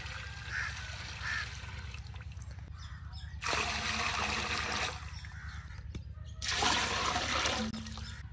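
Water is poured from a container into a cooking pot of rice being prepared in bulk, giving steady gushing bursts in two or three pours over a constant low background hum.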